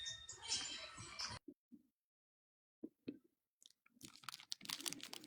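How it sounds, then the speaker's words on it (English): Close, quiet chewing of Hershey's chocolate and peanut M&Ms: a dense crunchy burst at first, then a pause and scattered soft mouth clicks and chews that grow busier toward the end, with no talking. "I'm eating peanut M&Ms."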